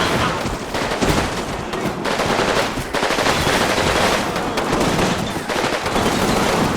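Dense squad gunfire from the video game Combat Mission Fortress Italy, with continuous loud bursts of rifle and machine-gun fire rattling throughout and brief gaps between volleys.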